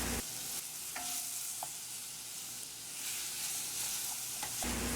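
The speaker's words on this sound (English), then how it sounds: "I'm going to be adding the saltfish to this. So I'm going to fry that up just for a few minutes." Saltfish frying in a pan, a steady close sizzle with a few brief clinks and stirring sounds, and no talking.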